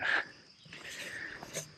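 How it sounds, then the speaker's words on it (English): A dog vocalises close by, with a short whimpering whine at the start, then softer whines and snuffling, ending in a brief sharper yelp. "Hey, doggy. How are you? Nice doggy."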